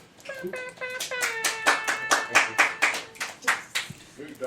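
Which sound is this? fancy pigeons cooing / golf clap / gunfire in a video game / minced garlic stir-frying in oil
golf clap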